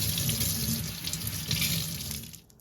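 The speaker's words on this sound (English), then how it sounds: "Next, you'll want to wash your herbs." Thai basil and scallions being rinsed under a running kitchen tap, a steady close rush of water into the sink that fades out near the end.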